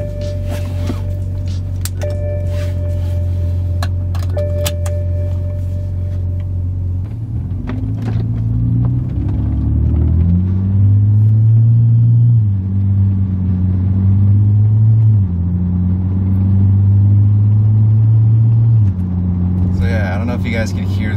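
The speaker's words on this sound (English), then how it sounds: "I'm gonna try and show you guys what it sounds like in the car." BMW E90 328i with a dual exhaust conversion idling and then pulling away, the engine note stepping up and down through several revs and gear changes, heard loud from inside the cabin with some talk over the start.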